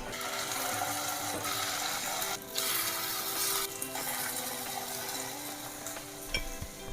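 Chicken and forest mushroom cutlets frying in fat in a pan, a continuous close sizzle and crackle with a couple of brief dips and a clatter near the end.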